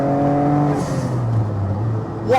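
A Noble M12 3R sports car engine drones at steady revs while driving, then the pitch drops as revs fall, with a brief higher whine near the end; no talking.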